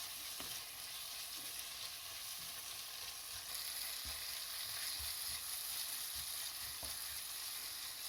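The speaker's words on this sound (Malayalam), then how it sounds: "നല്ലോണം വാടിക്കഴിഞ്ഞതിന് ശേഷം ഇഞ്ചി വെളുത്തുള്ളി പേസ്റ്റ് ഇട്ടത് കേട്ടോ" Onions with ginger garlic paste sauté in a pan for broiler duck curry, a steady soft sizzle with occasional scraping stir strokes, fairly quiet and with no talk.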